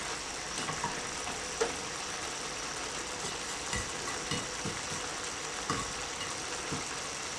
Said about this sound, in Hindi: ज़ीरा डाल देना है। इसमें और इसको हल्का सा फ्राई कर लेना है।